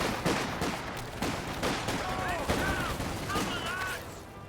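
Gunfire from a machine gun position in a building during a real-time strategy game battle, with repeated bursts and shots over a steady background of combat noise, mixed with whistling effects.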